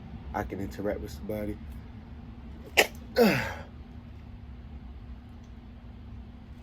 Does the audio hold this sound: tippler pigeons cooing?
no